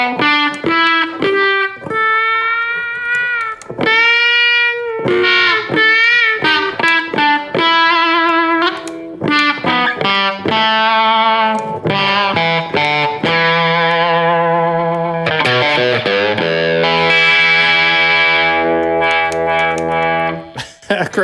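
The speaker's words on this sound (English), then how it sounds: "It almost sounds like a wah-wah pedal with this tone knob." An electric guitar in an out-of-phase pickup setting plays a bluesy run of bent and sustained notes while the tone knob sweeps for a vocal, wah-like effect, loud and close, with no talking.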